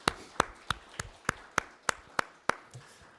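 A church congregation at a Sunday service gives thanks to God with slow, steady claps, about ten evenly spaced sharp hand claps, faint and distant in the sanctuary.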